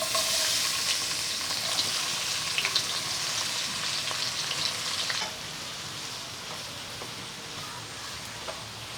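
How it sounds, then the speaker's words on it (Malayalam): Onions sauté in oil in a pan for a Kashmiri chicken dish, a bright, steady sizzle with occasional stirring scrapes, loud at first and then settling a little quieter partway through. "നമുക്ക് ഈ എണ്ണയ്ക്കകത്തോട്ട് തന്നെ നമുക്ക് ആവശ്യത്തിനുള്ള സവാള വഴറ്റിയെടുക്കാം"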